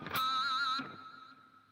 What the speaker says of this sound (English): I think I got reverb on this channel.